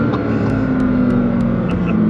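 A 2014 Nissan GT-R with a six-cylinder engine making roughly 1,380 wheel horsepower drones steadily and loudly from inside the car, its low, continuous engine note swelling slightly as it pulls.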